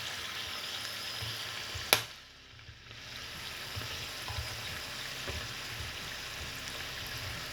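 Filled Vietnamese bánh gối pastries frying in oil, a soft continuous sizzle and bubbling heard up close, broken by one sharp click and a brief dip before the frying hiss resumes.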